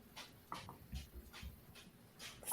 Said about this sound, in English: So if you hear barking, that's what's going on there.